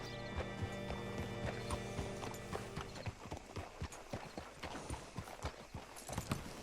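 Horse hooves clip-clop in Red Dead Redemption 2, a steady walking rhythm of hoof strikes up close, joined by layered game ambience and a faint musical hum early on.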